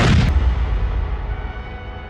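Artillery shelling in wartime Kherson, Ukraine: one loud, close boom at the start whose rumbling echo slowly fades away.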